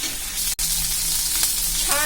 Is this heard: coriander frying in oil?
yes